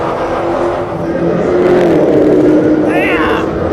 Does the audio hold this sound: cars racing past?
yes